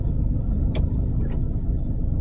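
Road traffic inside the EDSA tunnel in Metro Manila, Philippines, on a drizzly morning: a continuous low, heavy engine rumble with a couple of brief sharper hisses from passing vehicles.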